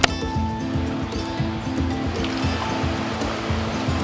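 Water flows steadily in a creek, a continuous rushing wash with some low rumbling, close and fairly loud, with no voices.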